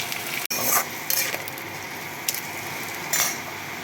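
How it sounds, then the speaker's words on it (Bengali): Onions frying in oil in a pan until golden brown, a close hiss broken by a few brisk stirring scrapes and a light clink of a utensil. "এবার আমি পেঁয়াজগুলো তেলের মধ্যে দিয়ে দিচ্ছি। পেঁয়াজগুলো একটু গোল্ডেন ব্রাউন হওয়া পর্যন্ত আমি ভেজে যাব।"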